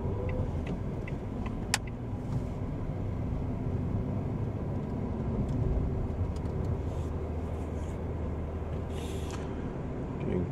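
A car pulls away during a driving test on a Winchester route, its engine a steady low hum heard from inside the cabin, with a few clicks and faint road noise.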